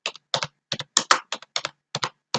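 Brisk keystrokes on a computer keyboard, about a dozen sharp clicks in quick irregular bursts, close and clear with no talking.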